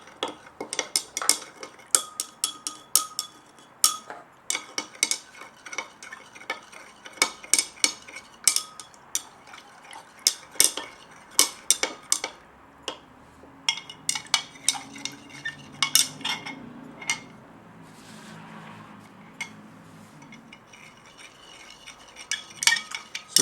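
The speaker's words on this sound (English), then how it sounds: "And stir until it's dissolved." A ferric ammonium citrate powder is stirred into solution in a glass beaker, with a steady series of sharp clinks and taps against the glass, some quick and clustered and some spaced apart. A soft swirl of liquid comes through faintly underneath.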